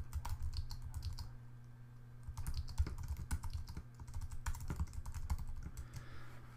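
Steady typing on a computer keyboard, rapid close key clicks in an uneven rhythm continuing throughout with no speech over it.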